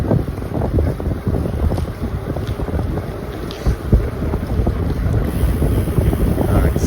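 Steady wind rushes and buffets a microphone throughout, with a low rumbling roar and occasional gusts; no one speaks.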